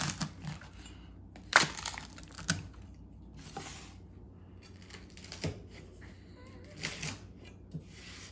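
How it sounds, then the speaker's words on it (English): A knife cuts through a homemade pizza with a lively bread crust, making a few sharp crunches and cracks spaced out among quiet scraping, close up with no talking. "I just use a knife."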